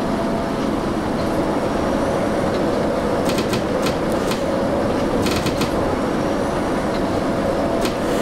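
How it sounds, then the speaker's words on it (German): A Berlin U-Bahn train in the Trainz 2004 railway simulator drones steadily through a curve, a continuous loud rumble with a faint squeal and a few brief metallic clatters, no voices. "Auch schön dieses Geräusch, wenn der Zug so in der Kurve so durchdröhnt."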